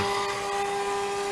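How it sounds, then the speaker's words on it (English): CNC router cutting a 3D logo with a 1/8 inch end mill, giving a steady high-pitched spindle whine with a constant tonal hum, continuous and fairly close, with no speech. "the cut is done. I was just using only one drill bit, or one end mill, the 1/8 inch end mill"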